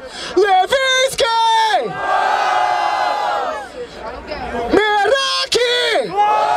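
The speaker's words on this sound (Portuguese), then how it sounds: "muitas palmas pra essa batalha" A rap battle audience erupts in a long, loud cheer of many voices, with shouted calls from a host on the mic just before and after the roar.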